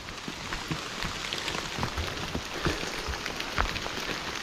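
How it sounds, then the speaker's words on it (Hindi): Steady rain mixed with hail patters and hisses on surfaces in a mountain forest in Uttarakhand, with scattered louder drops, continuous and fairly close, no voices. "ये देखो यहाँ पे बारिश"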